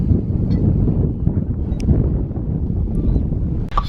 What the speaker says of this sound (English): It's really windy here